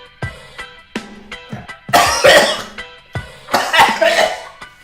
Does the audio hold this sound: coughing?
yes